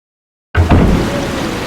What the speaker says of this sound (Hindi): अभी यहाँ पे रात हो रही है और चकाचक बारिश भी हो रही है